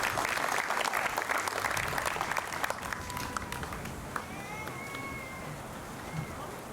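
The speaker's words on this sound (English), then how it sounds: "more round of applause for the Port Jervis High School Chamber Choir" Outdoor applause at a Veterans Day ceremony in a park, a crowd clapping steadily at moderate distance for the first few seconds before fading into thinner scattered claps and background ambience.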